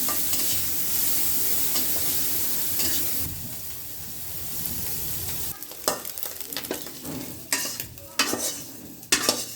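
Shrimp sizzle and spit in hot oil in a pan, loud steady frying at first, then broken bursts of crackling and stirring scrapes toward the end, close by.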